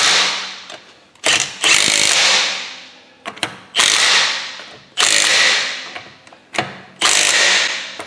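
Impact wrench driving the rear brake caliper bolts on a 2019 Ford Edge, loud repeated bursts of rapid hammering, about five hits that each fade before the next, no talking.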